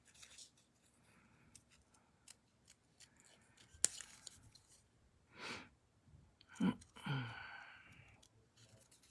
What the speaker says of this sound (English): we're going to just fussy cut this